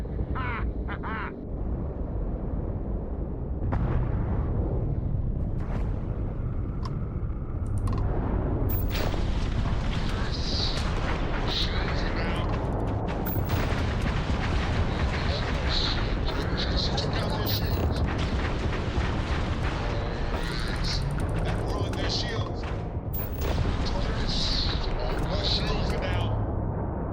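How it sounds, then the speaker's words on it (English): Starfield spaceship weapons fire in a space battle, loud and continuous, with booming explosions and sharp bursts layered throughout. "Bring all weapons online!"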